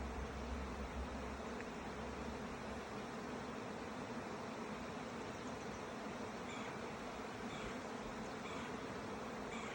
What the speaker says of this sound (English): there is a swarm of bees